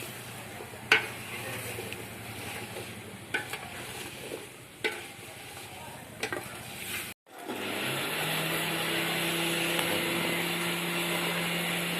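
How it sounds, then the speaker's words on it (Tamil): Thick jaggery syrup bubbles and simmers steadily in a pan, with a few sharp scraping taps of a spoon early on before a continuous boiling hiss takes over. "வெல்லம் நல்லா கரைஞ்சி பாகு கொதிக்குது"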